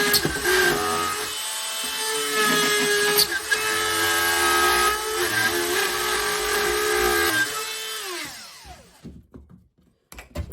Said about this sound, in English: what I'm going to use is my drywall router to cut these out